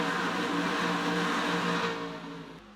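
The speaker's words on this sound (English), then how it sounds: "That's the sound of all 42 drivers then going round this only right-hander corner." In a Papyrus racing game, a pack of 42 race cars roars through the only right-hand corner, a dense, loud wall of engine drone that fades slightly as the field passes.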